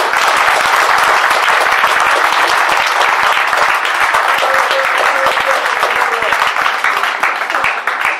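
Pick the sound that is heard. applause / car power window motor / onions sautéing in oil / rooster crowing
applause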